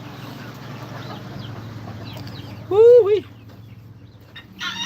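A small rooster and a hen cluck nearby over a steady low rumble, with one loud burst of clucking at the centre and softer calls around it; a person speaks briefly.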